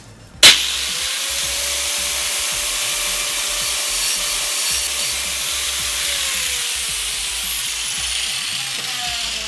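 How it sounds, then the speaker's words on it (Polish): An angle grinder cuts into the packaging of a Tracer Tomahawk computer mouse outdoors, starting with a sharp hit and then giving a loud, continuous abrasive whine that holds steady throughout. "Kątówka też nie dała rady"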